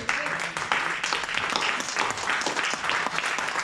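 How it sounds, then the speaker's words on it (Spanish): A church congregation at a prayer service breaks into lively applause, a dense, fluctuating clatter of many hands clapping close by, with some voices mixed in. "Dele un aplauso al Señor."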